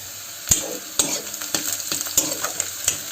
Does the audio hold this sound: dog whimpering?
no